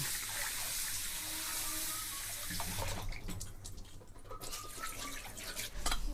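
Tap water runs steadily while sago is washed by hand, a continuous rushing splash with sloshing and dripping as the grains are stirred, close up.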